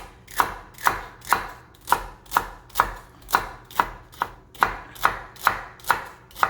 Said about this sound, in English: then we're going to just cut the celery